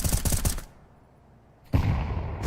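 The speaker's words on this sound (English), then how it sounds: "Oh, good nade combo." Counter-Strike 2 gunfire and grenade blasts during a professional tournament match, with a loud dense burst of shots and explosions, a short near-silent gap, then another loud volley.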